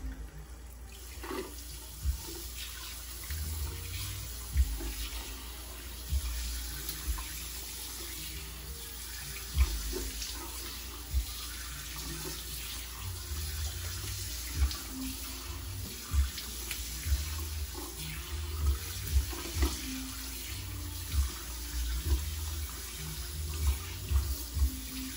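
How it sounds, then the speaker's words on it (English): Water runs steadily from a bathroom tap while a face is rinsed, the constant flow broken by repeated soft splashes as water is scooped and dropped, fairly quiet and with no talk. "Just gonna rinse my face."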